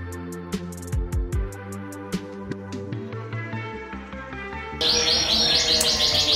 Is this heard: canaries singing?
yes